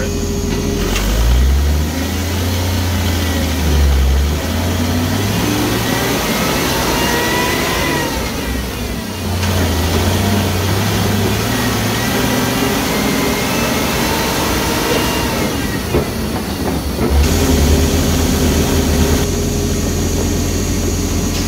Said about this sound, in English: What you're hearing there is a little bit of dieseling.